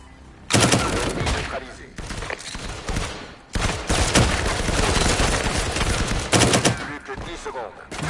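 Gunfire in the VR shooter game Firewall, with loud bursts of rapid shots and single reports arriving close and dense in several volleys, and brief quieter gaps between them.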